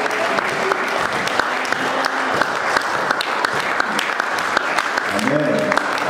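Church congregation clapping and cheering during a French-language service, dense continuous applause with sharp individual claps, while a voice speaks and sings over it near the end.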